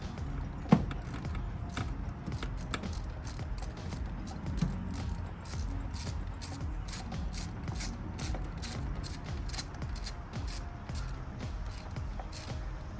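A ratchet wrench clicks steadily while a spark plug is loosened from the 4.6L engine of a 1999–2004 Ford Mustang GT, with quick, even ratcheting strokes close by over a quiet mechanical background.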